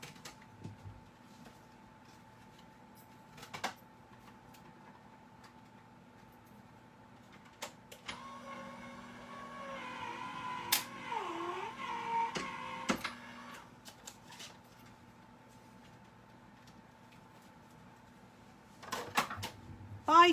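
A card-making die cutting machine runs with a card folded forward, giving a low mechanical whir and rumble that swells for several seconds amid light handling knocks, quiet overall and heard alone.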